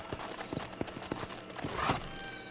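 Horse hooves clip-clop in a steady quick rhythm in the video game Red Dead Redemption, ending in a short whinny, fairly faint and with no talk.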